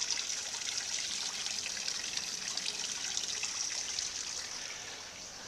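Water trickles steadily into a backyard garden pond, a soft continuous hiss and dribble heard close and alone, with no voices.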